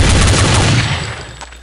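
A loud, dense volley of gunfire in Counter-Strike: Condition Zero sounds close and continuous, then fades in intensity toward the end of the short burst.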